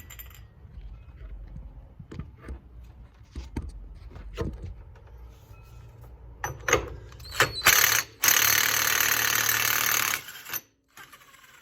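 A ratchet clicks in short bursts while loosening a bolt on a BMW E46 wheel hub, sparse metallic ticks at first, then a louder sustained whirring stretch near the end, close up in a garage.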